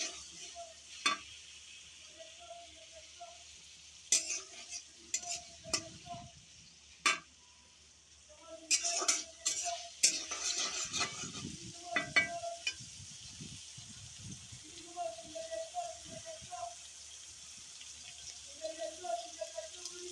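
Garlic paste and chili stirred together in a frying pan while cooking spinach with prawns, giving soft intermittent scrapes and light sizzling with a few sharp spoon knocks, fairly quiet with faint background noise.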